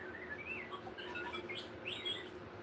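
A voice mimics the R2-D2 droid from Star Wars with a run of high, warbling whistles and chirpy beeps that rise and fall, steady and fairly close for a few seconds.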